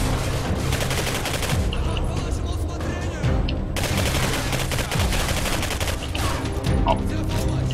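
Repeated gunfire bursts in the shooter game Singularity, played on hard difficulty, with dense overlapping shots and explosions running almost continuously at close range alongside other game sounds.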